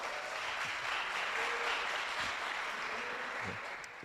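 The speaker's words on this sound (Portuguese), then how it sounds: "Vamos aplaudir ao Senhor." A church congregation applauds, a dense, even wash of clapping that holds steady for several seconds, sounding somewhat distant and soft before easing slightly at the end.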